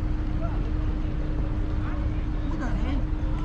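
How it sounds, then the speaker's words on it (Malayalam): A boat passes on the water at night in Dubai, its low engine drone steady under wind noise and nearby voices talking throughout. "ഒരു ബോട്ട് പോകുന്ന നമുക്കിവിടെ"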